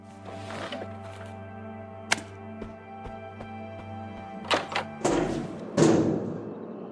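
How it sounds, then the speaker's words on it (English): Muffled thuds and metallic knocks from a young woman beating on an old vending machine in a video game, irregular blows over a steady electrical hum, with a burst of heavier clattering toward the end. "A young woman beating up an old vending machine."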